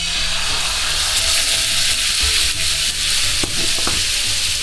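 Steady, loud sizzle of guanciale frying in a pan as tomato sauce goes in, with scraping stirring and a few sharp clinks over the continuous hiss.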